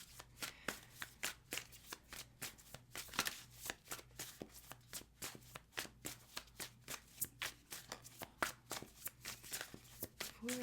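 A tarot deck is shuffled by hand in a steady run of crisp, rapid card riffles and flicks, close and clear, with no voices.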